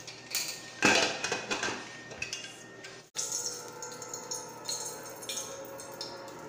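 A pressure cooker holding coconut rice has its lid worked open after the steam is released, giving loud metallic clanks and rattles close by, then a quieter stretch of light clinking and handling.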